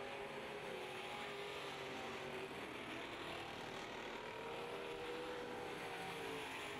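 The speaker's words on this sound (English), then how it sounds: "Two equally matched race cars." Hobby stock race cars roar around a short oval track in a steady, continuous engine drone, heard from a distance and fairly faint, with no voices over it.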